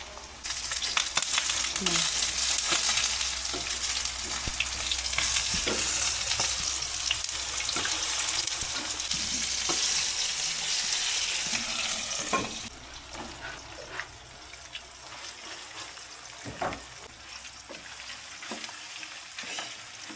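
Eggplant frying in a pan, a dense continuous sizzle with scraping and stirring clicks throughout; the hiss eases slightly toward the end while a few louder utensil knocks come through.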